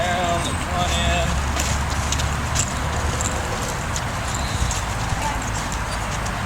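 A 2015 Mustang mare's hooves clip-clop on the ground as she steps around in a circle, a steady run of close footfalls with a person talking over them.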